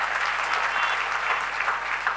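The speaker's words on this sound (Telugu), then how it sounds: "చప్పట్లు కొట్టు" An audience claps steadily throughout a sermon-style talk, a dense, continuous wash of hand claps without voices.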